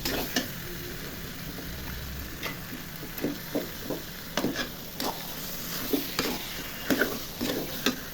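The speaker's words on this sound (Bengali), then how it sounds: "এখন মুরগির মাংস দিয়ে দিব মশলার মধ্যে" Chicken pieces tossed into fried spice paste for a chicken bhuna with fried onions, giving a steady soft sizzle broken by repeated scraping stirs and clicks of a spoon against the pan, with no talking.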